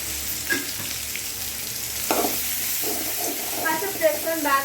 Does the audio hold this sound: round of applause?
no